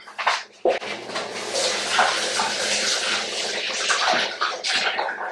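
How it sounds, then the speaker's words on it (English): Tap water runs steadily while hands are washed under it, a close, continuous splashing rush with a few brief interruptions at the start. "let me wash my hand here"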